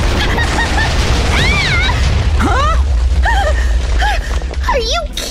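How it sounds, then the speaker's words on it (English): Explosions in the Minecraft video game tear apart a house, a loud, sustained rumbling blast under shrieking, siren-like sliding tones and chaotic game noise. "It's gonna explode!"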